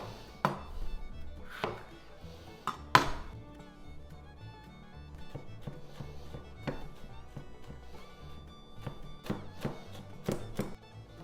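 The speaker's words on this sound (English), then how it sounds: "We're gonna dice them real small and we'll saute them to put on top of our pasta" A knife dices tricolor mini peppers on a cutting board in a home kitchen, giving irregular sharp chopping taps, some louder thunks, close and clear with no talk.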